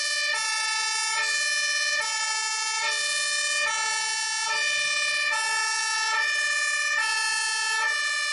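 A loud emergency siren wails alone, cycling steadily between two tones in a regular alternating pattern.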